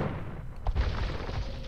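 Bombard cannons and hand cannons fire in a 3v3 arena strategy video game, with a deep boom landing mid-clip over a rumbling battle din.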